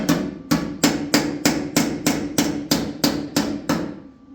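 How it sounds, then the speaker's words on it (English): Loud, evenly spaced hammer blows ring out on a sheet metal seam, about a dozen strikes in steady rhythm, each with a brief metallic ring. "Hammer that seam back straight"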